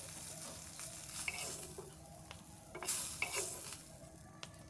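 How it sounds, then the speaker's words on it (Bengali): Hilsa fish fry in a pan with a steady, broadband sizzle of hot oil, punctuated by several sharp scraping clicks and stirs of a utensil against the pan, close and moderately loud, with no talking. "তো আমি মাছগুলো ভেজে নিচ্ছি।"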